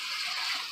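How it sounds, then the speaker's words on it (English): Running water pours steadily from a tap while a hair brush is cleaned, a brief continuous hiss heard close and fairly loud on its own. "water running"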